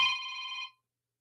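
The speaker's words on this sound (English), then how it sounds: "I thought I turned my phone off." A mobile phone rings once with a short electronic tone lasting under a second, then stops, leaving silence.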